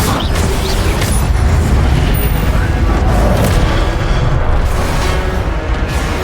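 A fiery Incendio spell bursts in Hogwarts Legacy as a loud, dense, rumbling blast that roars on steadily for several seconds with booming low-end weight.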